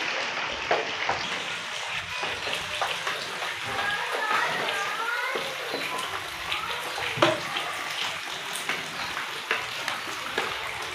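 Steady, dense patter of heavy monsoon-style rain flooding a village courtyard, with scattered louder drips and splashes, continuous throughout, fairly close and full.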